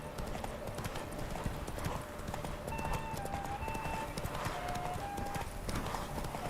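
Roach the horse galloping in The Witcher 3, a steady rhythmic clip-clop of hooves running continuously at moderate loudness, with faint musical tones and game ambience underneath.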